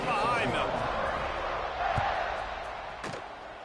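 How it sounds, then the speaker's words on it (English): A football stadium crowd roars steadily as the teams line up for kickoff, a dense, distant wash of cheering with a few thumps. "They're set to kick it off, and this crowd now ready to get behind them."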